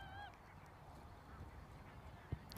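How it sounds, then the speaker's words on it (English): Geese honk briefly at the start, a short burst of calls heard faintly at a distance over a low outdoor background at a cricket match in Europe. "And Martin, he could probably hear the geese"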